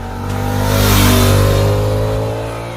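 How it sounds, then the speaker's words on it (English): A Suzuki GSX-8R's 776cc inline twin-cylinder engine revs up loud and close, swelling to a peak mid-clip and easing off again, with a steady low harmonic drone throughout and no talk. "This is a sweet and refined 776cc inline twin-cylinder engine"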